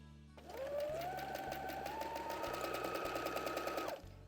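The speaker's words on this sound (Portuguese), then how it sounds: "É importante que o pé da máquina, se o pedal, você pode pressionar mesmo, que ele vai costurar rapidinho." An electric sewing machine runs in one steady fast burst for about three and a half seconds, stitching cloth for a small vaccination-card booklet, with a rising whir settling into even rapid needle chatter, close and alone.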